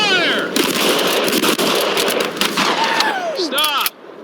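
State troopers at shooting practice fire guns in a dense volley of sharp, overlapping shots that cracks continuously for about four seconds before stopping abruptly, with voices shouting over it.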